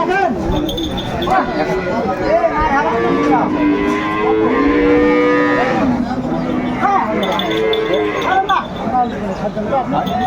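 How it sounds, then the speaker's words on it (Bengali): Dairy cows and calves at a livestock market in Dinajpur let out several long, loud, wavering moos close by, overlapping one another, with crowd chatter and people talking underneath. "বেশ সুন্দর মানের গাবি বাছুর আমরা দেখছিলাম"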